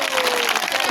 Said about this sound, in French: Vous applaudissez pour vous-même.